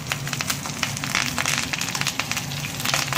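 Curry leaves crackle and sizzle in hot oil with mustard seeds, fenugreek, cinnamon and dried chillies while a sardine fish curry is being made, a dense, close spitting and popping that runs steadily throughout.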